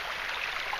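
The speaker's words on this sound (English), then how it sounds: "There's the stream again." A stream flowing beside the Under Rim Trail in Bryce Canyon National Park gives a steady, close, broadband rush of running water that continues without a break.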